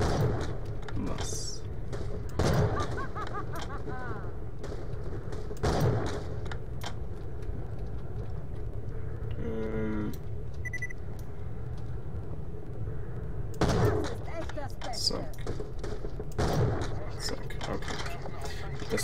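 Sniper rifle shots in Borderlands The Pre-Sequel, several sharp isolated cracks spaced seconds apart over game ambience, with someone talking between them.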